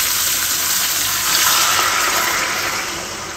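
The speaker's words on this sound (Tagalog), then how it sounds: "Lagyan na tayong tubig." Water gushes steadily into a cooking pot of adobo baby back spare ribs with garlic, a loud close splashing pour that tapers slightly toward the end.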